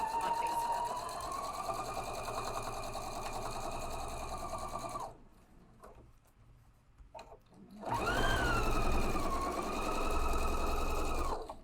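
Sewing machine stitching steadily across a cross seam on a DIY sewing machine caddy, a fast even whir that runs about five seconds, pauses briefly, then resumes loud and close.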